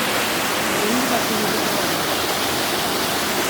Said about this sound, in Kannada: ಎಂತ ನೀರು ಬೀಳ್ತಾ ಉಂಟು ಶಬ್ದ ನೀರಿದು ಶಬ್ದ ಕೇಳ್ಬೇಕು ನೀವು